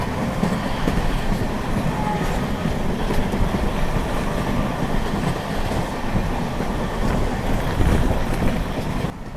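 Sampark Kranti Express running on rails between Panvel and the Konkan coast, a steady loud rumble and rattle heard from inside the moving train, continuous throughout with wind noise.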